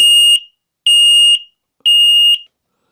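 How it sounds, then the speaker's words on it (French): An X-Sense Wi-Fi smoke and carbon monoxide detector blares three loud, piercing electronic beeps of about half a second each at a steady rhythm, close and alone. "comme vous pouvez entendre, hein, il y a quand même il envoie quand même du lourd le truc."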